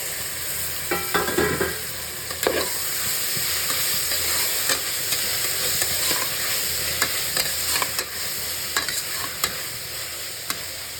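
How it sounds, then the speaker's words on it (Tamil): Onions and tomatoes sauté in a pan for biryani, making a constant loud sizzle. A spoon scrapes and stirs busily, with a burst of clattering early on and sharp clicks throughout, and there is no talk. "வெங்காயம் தக்காளி எல்லாம் நல்லா வதங்கிடுச்சு"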